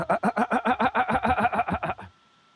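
A person imitates an Adelie penguin call with a rapid series of about fifteen rhythmic, nasal braying pulses, loud and close, ending abruptly.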